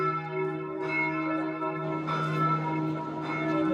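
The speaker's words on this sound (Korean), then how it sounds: "정오를 알리는 종소리가 온 도시에 울려 퍼진다" Church bells in Vienna ring out at noon across the city, a sustained resonant peal of layered, overlapping tones hanging continuously in the air without speech.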